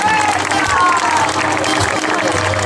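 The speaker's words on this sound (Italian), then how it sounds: "se ci fate l'applauso più bello della serata" Loud applause and cheering from an audience at an outdoor summer evening concert of Sassarese songs in Ploaghe, Sardinia, continuous and close throughout.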